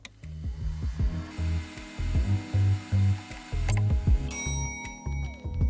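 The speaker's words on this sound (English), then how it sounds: "we can go ahead and drop them into the printer and get to printing" A 3D printer printing parts for a mini LED lantern, its stepper motors whirring in short tonal bursts of varying pitch, loud and close, starting and stopping in an irregular rhythm.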